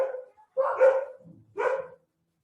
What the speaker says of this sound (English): for the dogs to be barking